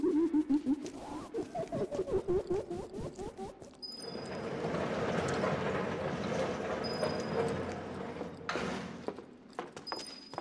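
Train on rails in the Final Fantasy VII Remake video game, bound for the Sector 7 slums: rhythmic mechanical clacking fades into a steady rolling rumble with faint high chimes, then clacks resume near the end.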